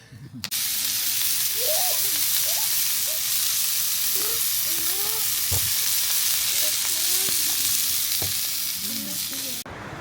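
Crêpe batter sizzles loudly on an upturned Petromax cast-iron lid used as a pan outdoors, a dense steady frying hiss with scattered crackles and pops throughout.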